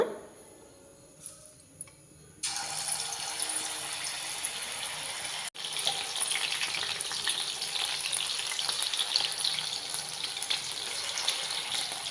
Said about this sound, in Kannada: ಈಗ ಕಾದ ಎಣ್ಣೆಗೆ ಒಂದೊಂದು ಪೀಸ್ನ ಮಶ್ರೂಮ್ ಪೀಸ್ನ ಹಾಕ್ಕೊಣ